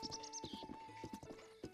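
Horse hooves clip-clop in quick steady steps with a neigh in the video game Zelda Breath of the Wild, close and clear over a thin sustained game tone.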